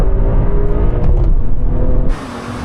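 A car launched hard from standstill with excessive wheel spin, a loud close engine roar holding high revs for about two seconds before cutting sharply to a lower rumble.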